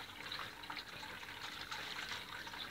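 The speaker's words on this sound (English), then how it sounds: "The water keeps on flowing underneath" Water in a homemade hydroponic setup runs continuously through a plastic pipe with holed plastic cups, a soft steady trickling and gushing flow heard alone, close and quiet.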